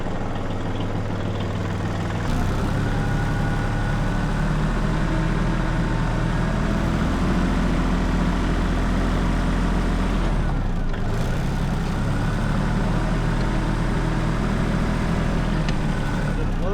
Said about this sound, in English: Pull the tractor out of the shop.